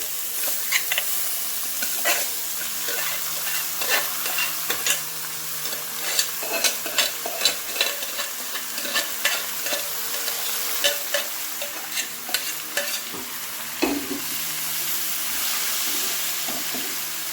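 Banana flower poriyal, Kongu Nadu style, stir-fried with grated coconut: a steady close sizzle with repeated spoon scrapes and taps against the pan, no talking.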